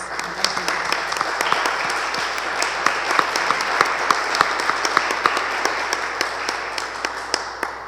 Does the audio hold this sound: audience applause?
yes